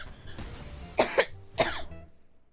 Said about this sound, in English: Right during my coughing fit.